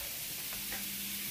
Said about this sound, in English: I'm starting with the sausage. I'm browning it.